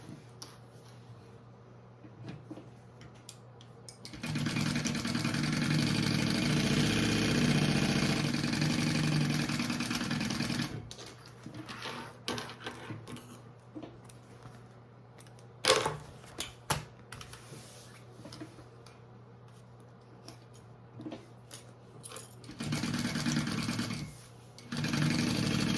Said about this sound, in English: we are just sewing up the sides of our pocket